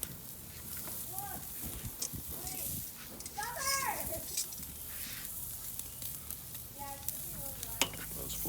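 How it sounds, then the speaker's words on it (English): A ribeye steak sears on a Weber Kettle Performer grill with a steady close sizzle, while people talk over it and some higher tonal voice-like sounds come and go. "You can hear it sizzling. That's what you want to hear when you're searing."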